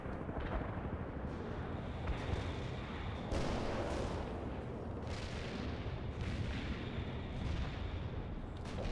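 Heavy artillery barrage in the strategy game World in Conflict: a dense, continuous rumble of distant shell impacts with recurring louder booms, steady throughout with no talk.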